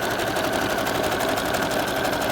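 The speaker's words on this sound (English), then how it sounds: "guiding the material and the fabric through with the sewing machine" A sewing machine stitches ribbon onto fabric in a fast, steady, unbroken mechanical whir, close and loud, with no talk over it.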